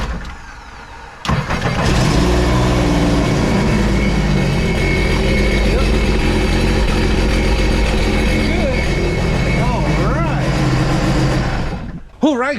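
A Sea-Doo RXT 260 personal watercraft with a freshly rebuilt engine starts up and runs loudly and steadily at close range, then cuts off near the end.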